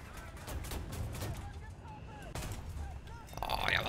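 Muffled booming tank cannon shots go off repeatedly in a busy battle in the video game War Thunder, with scattered clanks and whistling sounds over a constant low rumble.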